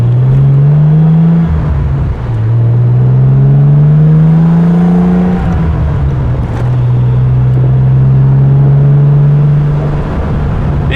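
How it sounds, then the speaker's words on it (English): A 1973 Triumph TR6 being driven, its engine note heard from close by, loud and steady, rising in pitch through each gear and dropping at the shifts, with no voices. "So it's really a nice driving TR6."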